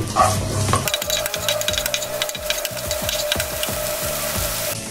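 Chopped onion and other ingredients fry in hot oil for kala bhuna, opening with a loud sizzle as they hit the pan, then a steady crackle broken by rhythmic scraping and stirring strokes.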